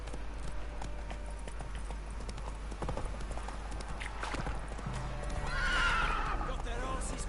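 The horse Roach in The Witcher 3 gallops with rapid clip-clop hoofbeats and lets out a loud neigh near the end, over game ambience and background voices.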